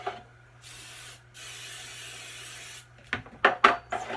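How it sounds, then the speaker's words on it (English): Two hissing bursts of aerosol cooking spray into baking pans, a short one then a longer one, followed by a few sharp metallic clatters of pans being handled nearby. "Spray your pans good, especially the bottoms."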